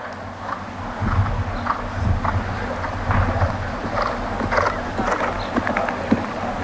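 Horse hooves thud in a steady, rhythmic gait on the ground during a jumper clinic, moderately close, with faint wind in the background and no talking.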